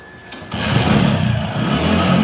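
An old, worn-out family car drives along the road, a steady loud engine and road rumble with rattling that starts abruptly and continues without a break, close up, no talk.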